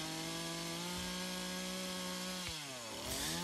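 Chainsaw trims overcuts while carving a bear in a wood stump, a loud close engine whine that holds steady, then dips and climbs again as the blade bites the wood.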